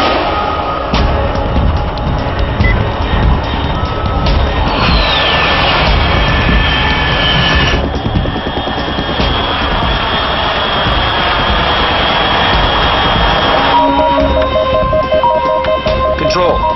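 A fast aircraft's jet engine roars steadily and loudly in Metal Gear Solid 3: Snake Eater, a sustained whooshing drone with rising whine tones, and voices speak over it.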